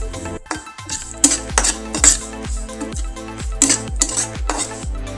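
A spoon stirs spices into mashed baingan bharta in a metal pan, giving repeated close, bright scraping clinks in an uneven rhythm with no voices.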